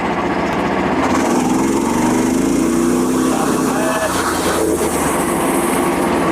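A Frontier sawmill's small engine runs close and loud at throttle while the mill moves forward on its track, a steady buzzing drone with a shifting pitch and some clatter, with no voices.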